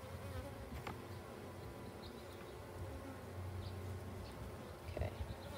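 Agitated honeybees buzzing during a hive inspection: a thick, steady drone of many bees close by, continuous throughout, with occasional louder passes near the listener.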